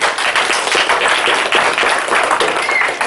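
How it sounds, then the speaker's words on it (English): A live audience claps and applauds as a presenter comes on at a talk event, a dense, steady patter of many hands sustained at close range throughout. "that's the first time I've been given a clap."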